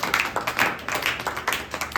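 A church congregation clapping loudly in rhythm, a dense run of steady, evenly spaced handclaps filling the space, close and sustained.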